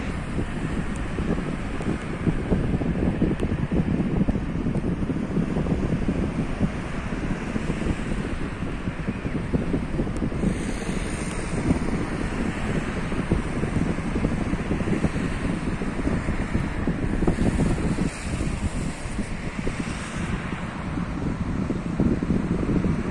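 Steady wind buffets the microphone at Sidi Abdelaziz beach near Jijel, with the continuous roar of sea waves and surf underneath, loud and unbroken throughout with no talking.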